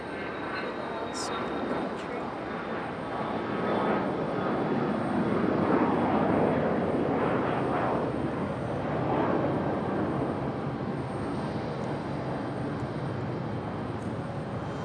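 A Sun Country airliner at Raleigh-Durham airport, its engine roar a broad, steady rumble that swells and fades over several seconds, moderately distant, with voices talking over it.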